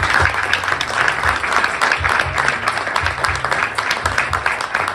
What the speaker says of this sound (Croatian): Jedan veliki aplauz za najbolju mlađu juniorku Srbije